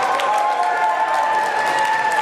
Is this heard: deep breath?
no